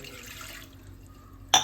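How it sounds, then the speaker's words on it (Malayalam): A glass of water splashes into a pan in a short pour, then fades to quiet before a sharp clatter at the end. "ഒരു ഗ്ലാസ് വെള്ളം ഒഴിക്കാം"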